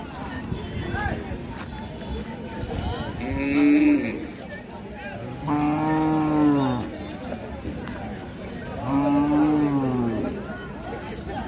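A Khillar bull at a busy cattle market gives three long, loud moos spaced a few seconds apart, over a steady din of crowd noise and nearby voices.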